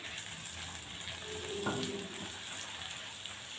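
Peeled tomatoes go into onions frying in a pan, giving a steady, soft, hissing sizzle throughout, with one brief stir or drop near the middle.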